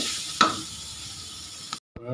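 Steady hot sesame oil sizzle crackling close by, with a brief clatter partway through, then a short pause before the frying resumes.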